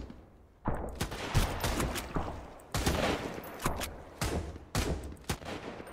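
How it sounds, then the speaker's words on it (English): Gunfire in the survival game Sunkenland, repeated sharp bursts of shots from another player at moderate distance, with quieter ambience between volleys and no talking. "There's one guy shooting from there."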